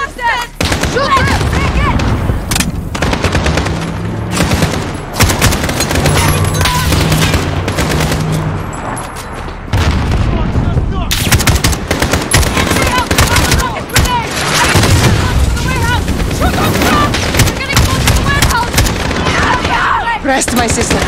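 Gunfight in Call of Duty: Modern Warfare (2019) campaign: loud, near-continuous machine-gun bursts and single shots with booming impacts, a brief lull partway through, and shouted voices mixed into the firing.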